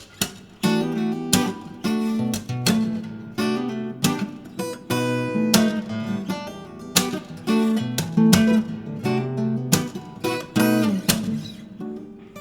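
Acoustic guitar plays the intro of a song in a steady, percussive fingerstyle: repeated slap hits and plucked chords with sharp attacks, close and loud, with no voices.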